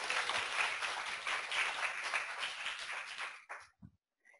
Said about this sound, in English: One more round of applause for Ken.